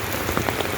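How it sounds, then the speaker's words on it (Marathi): Heavy morning rain in a village pounding down steadily, a dense close wash of drops hitting surfaces with a few sharper splats, alone without talk. "एवढा मोठा पाऊस पडालाय सकाळ सकाळ आमच्या इथं."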